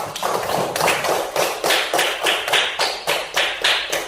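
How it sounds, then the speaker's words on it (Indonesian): A group of children in a classroom claps together in a rhythmic pattern, with sharp, loud bursts of hands coming in regular rounds, each about half a second apart, close and lively. "Oke, tepuk tangan semua."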